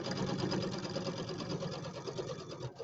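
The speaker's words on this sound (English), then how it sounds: "I'm just going to sew in a few inches here on this side and leave a little opening" A sewing machine stitches a few inches along the side of a St Patrick's Day settee pillow, leaving an opening, with a steady close whirring run that carries on throughout and no talk over it.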